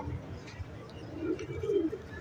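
A pigeon, a prized bird with a tag on its leg, gives low, soft coos that swell briefly near the end over a murmuring indoor background.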